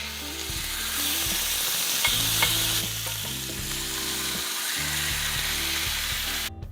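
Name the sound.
turkey thigh searing skin side down in hot olive oil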